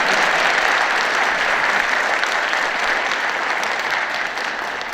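Applause from a concert audience in Busan for a group of classical vocalists who have just sung popular songs, a dense, loud, even wash of clapping that fades slightly near the end.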